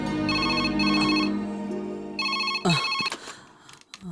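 A mobile phone ringtone plays a repeating electronic melody in a police station. Bright beeping phrases come in bursts, then break into clattering handling sounds as the phone is picked up.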